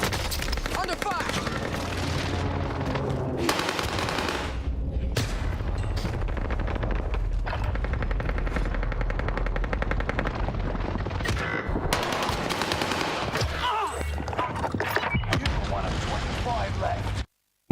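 Dense Call of Duty Warzone gunfire, with rapid automatic bursts and heavy booms in clustered volleys separated by short pauses. A player talks over the shooting.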